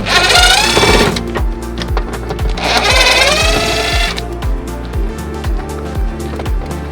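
A power screwdriver backs two Phillips screws out of a speaker in a Jeep Cherokee XJ, giving two whining motor bursts with steady ratcheting clicks between and after them, close and loud.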